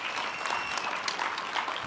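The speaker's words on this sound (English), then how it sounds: "Can we give them a Cathsseta round of applause?" Steady applause from a conference audience fills the whole stretch, dense and even clapping with no break or voices on top.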